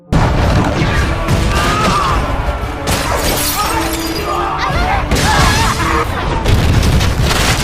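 Gunfire and cannon shots from the pirate ship Black Pearl as its crew storms the shore, a loud continuous barrage of booms, crashes and shattering impacts filling the whole stretch.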